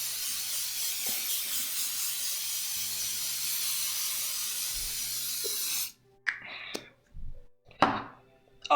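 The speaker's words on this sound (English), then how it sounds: "It's a continuous mist." A face makeup fixer spray releasing a continuous mist: a long, close, steady hiss for about six seconds, then it stops, followed by a few short handling knocks and rustles.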